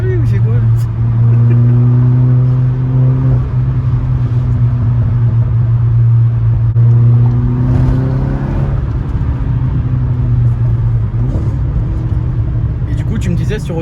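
A Seat Ibiza Cupra with a stage 1 tune rumbles with a loud, deep engine drone that climbs and dips as it accelerates, close by, with people talking over it.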